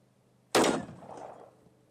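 A rifle shot hits homemade ballistics gel backed with scrap metal armor, a single sharp, loud crack that fades out over about a second.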